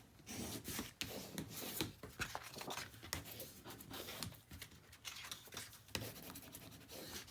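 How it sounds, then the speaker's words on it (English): Paper is burnished down onto a mini album panel with a continuous close scratchy rubbing in quick repeated strokes, quiet and unaccompanied by talk. "Burnish that really well."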